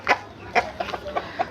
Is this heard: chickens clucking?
yes